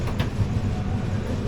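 A train hauled by Hubballi-shed G9 locomotive 43369 on the Mysuru–Sainagar Shirdi Express gives a brief, steady low rumble with faint rail noise, close and continuous.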